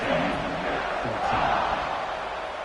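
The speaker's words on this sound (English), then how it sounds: "this crowd is buzzing after that last score" Stadium crowd at a Colorado Buffaloes college football game, a dense, steady roar of many voices buzzing continuously throughout, loud and close with no single voice standing out.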